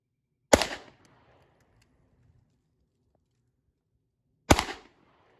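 Two sharp, loud Sig P228 pistol shots crack at an outdoor range, spaced about four seconds apart, each with a short decaying tail and near silence between them.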